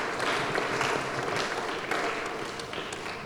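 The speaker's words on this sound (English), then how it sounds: "Let's give ourselves a round of applause" Students at a World Water Day essay competition finale give themselves a round of applause, a moderate, steady wash of clapping from a crowd that fades slightly toward the end.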